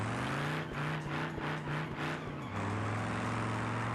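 A classic American V8 car in BeamNG.drive growls steadily at high load, its harmonic engine note wavering and then settling into a lower, even drone, loud and close with no talk.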